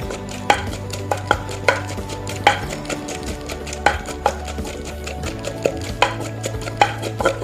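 Shrimp paste and other ingredients pounded in a mortar while making chili paste for a Thai morning glory and tilapia curry: steady, evenly spaced pestle thuds that stand out clearly over a low continuous hum.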